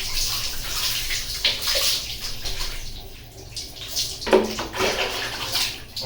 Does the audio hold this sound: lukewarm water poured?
yes